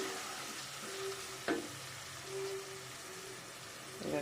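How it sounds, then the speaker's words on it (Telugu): Turmeric curry mixture frying in a pan with a steady low sizzle, stirred now and then with a few louder scraping clicks of a spoon against the pan; no one talks. "దీంట్లో పసుపు కూడా వేసేసుకొని ఇదంతా మంచిగా మిక్స్ అయ్యేలాగా కలిపేసి దీంట్లో ఇప్పుడు నేను టమాటో కూడా వేస్తున్నాను"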